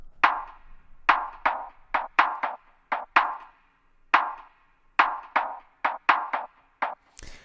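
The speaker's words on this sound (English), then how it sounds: "The clap sound is this clap from Midnight Punch, which is on PML, my drum pack there." A clap sample from the Midnight Punch drum pack repeats in a syncopated, push-pull pattern, about twenty sharp, snappy hits with short tails, up front and dry, ending with a brief bright noise.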